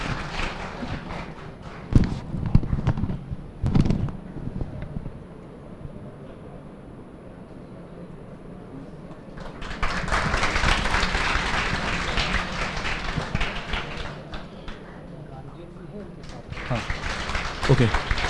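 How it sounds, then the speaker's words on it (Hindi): An indoor audience greets guests at a celebration for a newly selected Income Tax Inspector, with two short bursts of clapping and then longer sustained applause, while a host speaks over it. "भाई ताली बजाते रहो"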